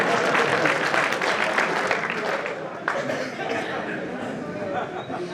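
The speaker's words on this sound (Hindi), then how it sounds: "ताली बजाओ, हिली न करो।" Crowd applause at a kavi sammelan poetry gathering at a village fair, dense clapping that starts loud and gradually softens, with some murmuring from the audience.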